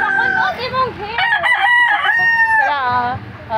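A red rooster crows loudly and close by, one long drawn-out cock-a-doodle-doo rising and falling over several seconds and standing on its own.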